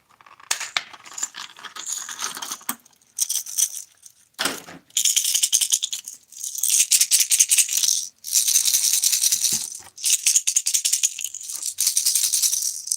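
A lipless trap fishing lure, a 3/4 ounce Bill Lewis in Cali Craw, is shaken by hand, giving bright, close metallic rattling in repeated bursts with short pauses.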